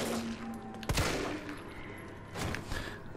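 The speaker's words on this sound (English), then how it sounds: "So we'll try and shoot this guy." Two heavy gunshots ring out in Resident Evil 3 Remake, spaced well apart, each with a punchy low thump and a lingering tail, over a low game ambience.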